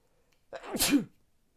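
One sudden, loud sneeze close by, a sharp breathy burst lasting under a second, with near silence on both sides.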